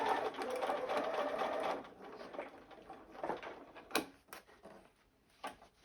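A sewing machine stitches pinned curved quilt pieces in a close, steady run of about two seconds, followed by quieter short bursts and light clicks as the fabric is handled.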